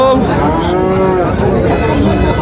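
Several dairy cows moo loudly and close by at a weekly livestock market, long drawn-out lowing calls overlapping one another, with faint crowd chatter underneath.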